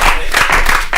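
Audience at a comedy show clapping loudly and densely for about a second, a close, continuous burst of applause.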